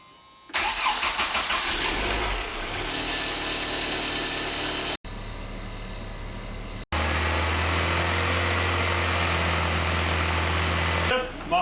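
A VW Passat 35i 2E engine cranks and starts after a thermostat replacement, then settles into a steady, loud idle with a brief cut before running on.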